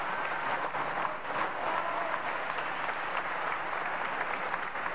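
Applause in the Portuguese parliament, a sustained even roar of many hands clapping in a large chamber, steady and full from start to finish.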